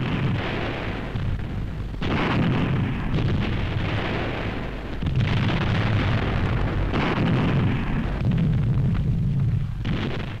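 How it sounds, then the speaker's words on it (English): Self-propelled guns of the 1st Canadian Army fire a heavy artillery barrage in 1945, a continuous roar of booming blasts and rumbling detonations without pause, loud and dense throughout. "Self-propelled guns of the 1st Canadian Army open the offensive for the Hochwald Forest."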